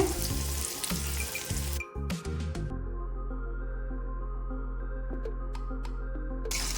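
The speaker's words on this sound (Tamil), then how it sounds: "இப்போ இதை பொறிச்சு எடுத்துலாம் எண்ணெய் வந்து மீடியம் ஃப்ளேம்லேயே வச்சுக்கோங்க" Prawn fritters frying in oil over a medium flame, a soft steady sizzle with a few clinks and stirring sounds early on and no talk.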